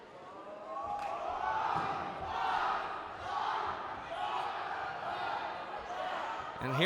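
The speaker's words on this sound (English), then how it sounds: "the Chieftain crowd making a great deal of noise here" A Chieftain home crowd at a high school volleyball match roars in waves of sustained cheering and shouting, with a sharp burst of noise near the end.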